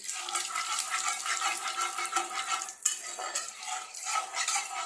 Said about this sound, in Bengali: কালো জিরাটা একটুখানি কয়েক সেকেন্ড এটাকে নাড়িয়ে